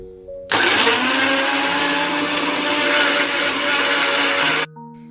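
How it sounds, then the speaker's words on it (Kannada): A kitchen blender grinds dry fruits, banana, milk and jaggery into juice, switching on abruptly into a loud steady whirring roar that holds for about four seconds before cutting off cleanly. "ಈಗ ಚೆನ್ನಾಗಿ ಗ್ರೈಂಡ್ ಮಾಡಿಕೊಳ್ಳೋಣ"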